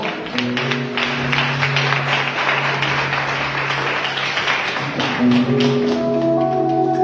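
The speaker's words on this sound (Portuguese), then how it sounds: "Dê uma linda salva de palmas ao Senhor" A church congregation clapping together, a dense run of rapid claps held for several seconds over sustained keyboard-like tones.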